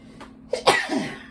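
A single sharp sneeze, close and sudden, preceded by a brief intake of breath in an otherwise quiet room.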